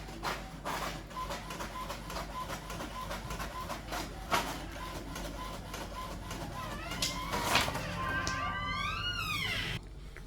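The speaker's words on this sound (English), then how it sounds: "now it's printing." A printer turning out a copy of an ID card, running with a continuous mechanical whir and rhythmic clicking, ending in a rising and falling motor whine as the page feeds out.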